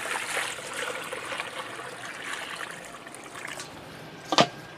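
Clean water pours into a pot holding blanched lamb with scallion and ginger, a steady close splashing trickle that fades slightly before a short louder splash at the end.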